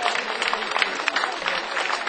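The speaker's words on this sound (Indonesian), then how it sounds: "Beri tepuk tangan Bapak Ibu sekalian" Audience clapping at an award ceremony in Karawang: steady, dense applause from many hands in a hall, fairly close and even throughout.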